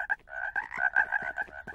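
A cartoon frog croaks in a steady run of rapid, buzzy, throaty pulses, clear and fairly close, with no talking over it.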